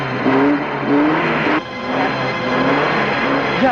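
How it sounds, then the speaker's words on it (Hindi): A car engine revs hard in short repeated surges while the car is struggling to reverse, loud and close, each roar rising and falling in turn. "जल्दी गाड़ी पीछे लो"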